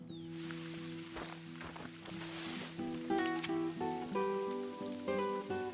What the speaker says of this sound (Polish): Tutaj też pada.